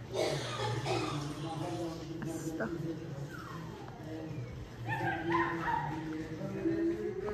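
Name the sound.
dogs barking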